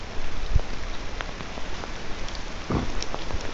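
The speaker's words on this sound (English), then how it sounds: "So you get that sound you would get on an umbrella, you know, when rain hits" Steady rain patters on a military-style plastic rain poncho, a dense close hiss with a few sharper drops standing out.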